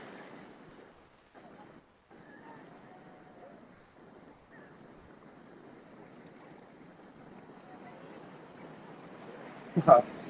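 Steady ocean surf washes in the background at Puri beach, Odisha, India, with wind noise, people talking over it, and a brief louder thump or splash near the end.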